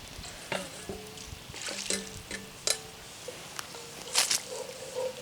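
Thick homemade chili sauce bubbling and sizzling in a hot pot, with soft intermittent pops and stirring scrapes close up and a faint sizzle underneath.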